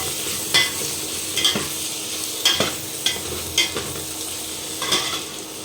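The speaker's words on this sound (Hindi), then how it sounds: "देखिए सारी सब्जी और मसाला सब भून चुके हैं।" Vegetables and spices fry in a pan on the stove, a constant sizzle broken by regular scraping strokes of a spoon stirring them, about once every half second to a second, close and fairly loud.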